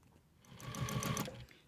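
Embroidery sewing machine stitching an outline around a small design, a quick burst of rapid rhythmic needle strokes that rises and then stops, about a second long, fairly quiet and near.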